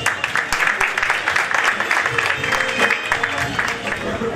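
An audience at an annual dinner and award ceremony claps steadily, a dense patter of many hands continuing throughout at moderate distance, with a voice faintly over it.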